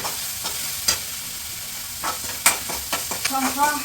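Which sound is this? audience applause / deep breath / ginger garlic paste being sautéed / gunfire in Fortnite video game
ginger garlic paste being sautéed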